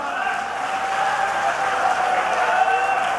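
Audience applause at a mushaira poetry gathering, a steady broadband wash of clapping from a large crowd held at an even level throughout, with a faint tonal hum underneath.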